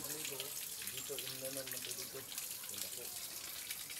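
Water flowing steadily at a water source in Sitio Latel, a continuous rushing wash heard close, with people talking over it.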